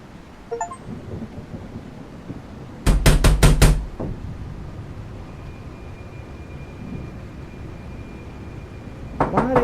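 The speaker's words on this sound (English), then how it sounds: "Why are they banging on the door like they po-po?" Rapid series of about five loud, heavy knocks pounding on a door in the Detective Rainy Night video game, one burst standing out over a steady rain-like backdrop, with another faint knock cluster near the end.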